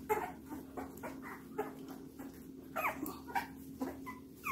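Several puppies whimper and yip in short, repeated bursts while being handled during grooming, close and fairly steady over a low background hum, with no talk.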